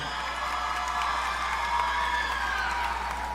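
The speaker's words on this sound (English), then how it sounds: "Let's give them another round of applause." Audience at a school event applauding and cheering for Signal Hill Secondary School, a continuous full wash of clapping with cheers mixed in, steady and loud throughout.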